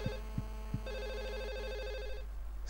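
A telephone rings in Silent Hill 4: The Room, a steady electronic warble repeating in a hallway, preceded by three low thudding beats over a constant hum.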